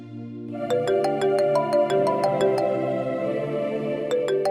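A phone ringtone plays a repeating melodic electronic tune, loud and close, with evenly spaced chiming notes and no speech.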